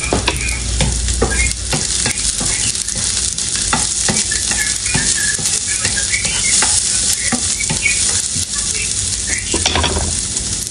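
Garlic fries and browns in a pan with loud, close, continuous sizzling and crackling, broken by scraping and stirring strokes, and no voices are heard.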